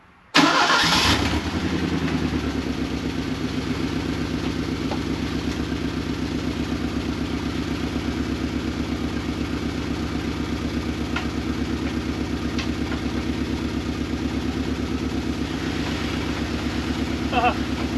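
A 1983 turbo coupe engine cranks and catches on its first start in 20 years, then settles into a steady, loud rumbling idle that continues unbroken, with faint voices in the background.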